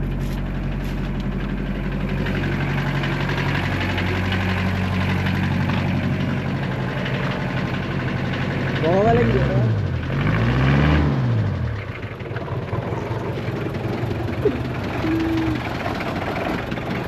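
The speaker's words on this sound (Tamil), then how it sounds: "வண்டி ஸ்டார்ட் பண்ணிவிட்டேன். Toyota always Toyota." A Toyota vehicle engine idling after being started following days of sitting, a steady low rumble with a brief rising and falling revving surge midway, then settling back to idle.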